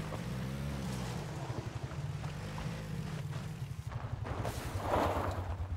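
Vehicle driving in the battle royale game PUBG, a steady droning engine with rhythmic pulsing and revving that swells slightly toward the end, loud and continuous without speech.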